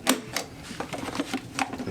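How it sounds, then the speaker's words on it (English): The latch on a Doona infant car seat base clicks up close, giving several sharp, irregular clicks and rattles at a quiet level. "The latch is clicking here for safekeeping when you're not actually using them"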